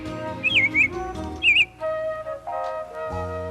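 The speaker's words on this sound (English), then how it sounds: "That's the sound of birds singing." Birds sing in short warbling whistled phrases over a soft musical backing, a few bright trills rising and falling before the music carries on alone, played from a record of nature sounds.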